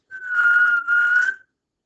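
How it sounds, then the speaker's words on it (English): A single clear whistled tone close by, held steady for over a second with a brief dip in the middle, then silence. "And whistle."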